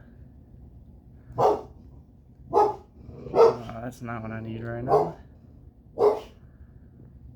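A dog barks several times in separate single woofs, fairly close, while a person speaks briefly between barks.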